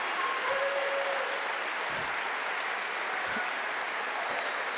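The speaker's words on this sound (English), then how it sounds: "Let's give him a round of applause." Steady audience applause fills a large hall for speaker Dr. Timothy J. Keller, a dense, even wash of many hands clapping at moderate distance that holds for several seconds with no talk over it.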